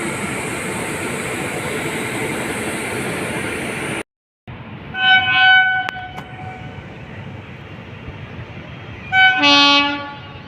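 An Amarnath Express train arrives at Chhapra Junction. A loud continuous rumble cuts out briefly, then two long blasts of the horn sound amid lighter rolling noise.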